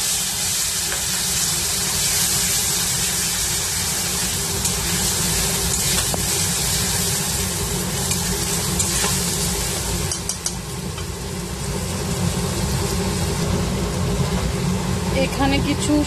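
A paste of ginger, garlic, onion and chilli hits hot oil with a loud, dense sizzle that fills the whole stretch, close up and steady, with a few light stirring knocks and a low background drone.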